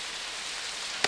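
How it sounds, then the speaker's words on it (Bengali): Heavy cartoon rain falls as a steady, dense hiss throughout, with a single brief tap or knock near the end and no talking. "বৃষ্টি কত জোরে পড়ছে"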